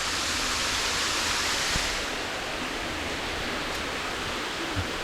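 Water pours without pause from dragon-shaped fountains at a Buddhist temple in Khon Kaen, a loud, dense, hissing rush that fills the space evenly, with no voices over it.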